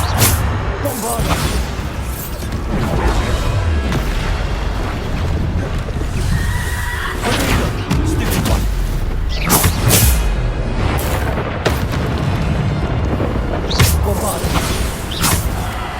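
Bombarda blasting spell explosions in the Hogwarts Legacy video game, heavy booming blasts recurring every few seconds amid a dense, loud wash of combat effects, with voices calling out over the action.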